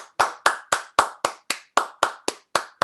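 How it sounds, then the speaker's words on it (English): Roughly a dozen sharp, evenly spaced claps ring out loud and close, like a small audience applauding together after a song at a folk concert. "That was a really loud clapping"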